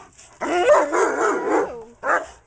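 A German Shepherd lets out a long, drawn-out bark that wavers in pitch, followed by a brief pause and one shorter bark, close and fairly loud.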